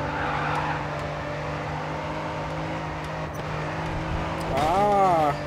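A race car in Grid 2 slides through a corner as its tires squeal in a wavering screech near the end, over a steady engine drone, while someone talks.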